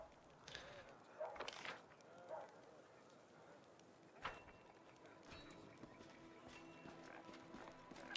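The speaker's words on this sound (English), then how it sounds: "There's the horses, Evil Watch." Horses in the Pathfinder: Wrath of the Righteous video game clop and snort faintly, with scattered hoof sounds and soft animal noises against a quiet ambient background.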